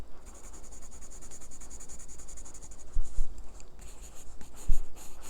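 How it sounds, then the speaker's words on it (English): A soft, very black 2B graphite pencil scratches across paper in continuous rubbing strokes, close and steady, with a few heavier taps and strokes toward the end. "This is going to be a very soft pencil, very black"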